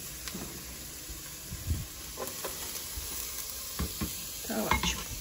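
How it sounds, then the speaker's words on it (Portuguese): Onions fry in a pot with a steady soft sizzle, interrupted by scattered scrapes and clinks as a utensil stirs against the pan, fairly close and moderate in volume. "Tem que esperar fritar um pouquinho a cebola, né?"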